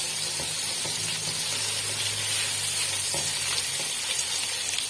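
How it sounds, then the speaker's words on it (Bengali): Ginger-garlic paste sautés in a pan with a continuous, close sizzling hiss, and a utensil lightly scrapes and stirs at intervals. Nobody speaks. "একটু ভালো করে কষিয়ে নিলে এই গন্ধটা চলে যাবে।"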